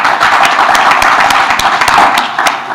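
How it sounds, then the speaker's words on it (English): Conference audience clapping for the board at a technology and innovation gathering, a dense, steady patter of many hands sustained throughout with scattered sharper claps standing out. "Can you clap for that board?"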